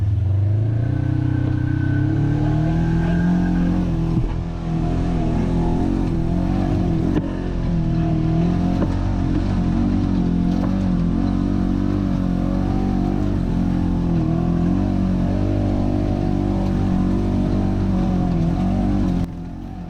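Off-road vehicle engine running steadily on the Hatfield McCoy trail system, a loud continuous low drone with shifting pitch throughout, close to the microphone and without talk.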